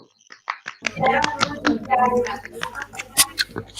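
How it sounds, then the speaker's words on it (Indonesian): A few scattered hand claps and taps sound in a classroom as students applaud group one, sparse and uneven rather than a full ovation, with voices talking underneath. "Tepuk tangan untuk kelompok 1."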